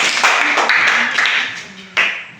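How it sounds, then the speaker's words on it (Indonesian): A class claps along in a school setting, a few loud close bursts of clapping with a louder final clap, voices mixed in. "Tepuk tangan. Tepuk tangan."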